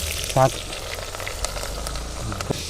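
Onions sizzle in a pan while biryani is being made, giving a steady, fairly soft hiss throughout, with a brief voice and a few small clinks over it.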